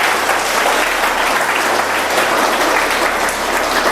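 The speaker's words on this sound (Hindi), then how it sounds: "सबसे पहले इसके लिए जोरदार ताली बजाइए।" A school audience claps loudly and steadily for several seconds, a dense even wash of applause with no talking.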